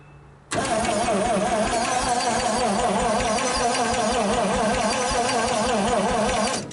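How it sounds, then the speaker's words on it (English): A 1956 Studebaker Golden Hawk engine cranks and starts, then runs steadily with a rapid ticking clatter from a timing chain, lifter or rocker riding over the idle, close and loud. "I either hear a timing chain or I hear a lifter or a rocker making a little bit of noise there"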